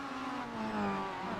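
Touring car engines droning in an iRacing race at Circuit Zolder GP, a steady close whine with slight pitch rises as cars accelerate, brief and without talk.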